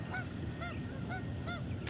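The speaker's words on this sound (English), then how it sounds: "My first guest, geese." Geese honking nearby outdoors, a series of distinct nasal honks repeating every half second or so over a faint steady background, no talking.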